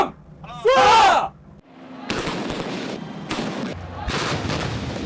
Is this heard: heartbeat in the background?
no